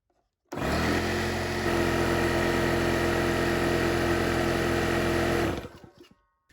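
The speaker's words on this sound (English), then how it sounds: "the max pressure of this compressor is 165 PSI, and that's where it's going to shut off" An air compressor for a wall texture sprayer, rated to 165 PSI, starts abruptly and runs with a loud, steady motor drone for about five seconds before winding down, close by with no speech.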